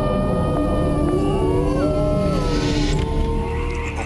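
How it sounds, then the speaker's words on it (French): Several wolves howl together in the woods of an animal park at Sainte-Croix, long wavering overlapping tones rising and falling over a steady loud background for about four seconds, with no talking. "un loup qui ressent une émotion intense va se mettre à hurler"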